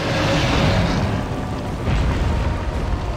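An explosive barrel in Resident Evil 4 is shot and bursts into a loud, rumbling blast that keeps booming and roaring for several seconds.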